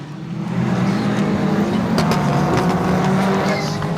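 Group SL GT race cars up to 3500cc lap the Katukurunda circuit with a loud, continuous engine drone that swells after the first half second and holds steady, with faint sharper bursts mixed in.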